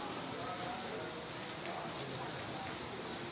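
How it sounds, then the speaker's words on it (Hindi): Steady rain falls in Lucknow, a dense, even hiss of drops on surfaces that stays constant and fairly faint throughout. "लगातार लखनऊ में बारिश हो रही है"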